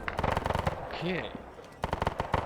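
Short machine gun bursts in a military video game, rapid cracking volleys at the start and again near the end, with a brief whistling sound and faint voices between them.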